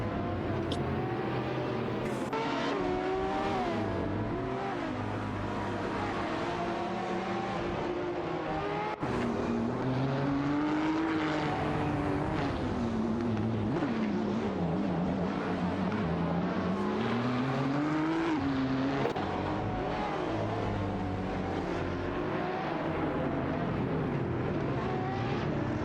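Race car engines in an AI racing video game, including a Radical RXC Turbo 600 and a McLaren, droning and rising and falling in pitch as cars pass and shift, loud and continuous without pause.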